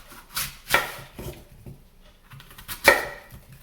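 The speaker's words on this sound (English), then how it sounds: "this is where we're going to be slicing our apples" A knife slices through apples on a board, giving a few separate crisp cutting thunks with quiet pauses between them, close and moderately loud.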